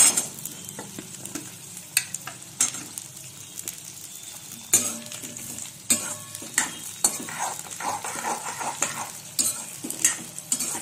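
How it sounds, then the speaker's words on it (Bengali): Diced potatoes and flat beans frying with onions in a pan: a constant sizzle broken by frequent scraping and clinking spatula strokes against the metal, close and fairly loud, with no talking. "এই যে সিমটা আলুটা একটু ভেজে নিয়েছি"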